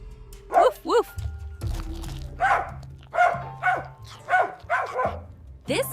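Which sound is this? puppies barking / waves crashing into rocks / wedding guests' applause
puppies barking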